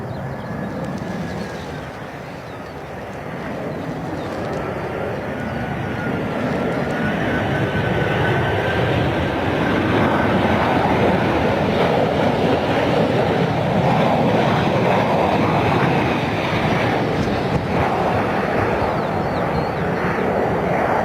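Inbound airliner from Bremen approaching and landing at Stansted Airport, a long roaring jet engine swell that builds and holds loud, with wind buffeting the microphone throughout.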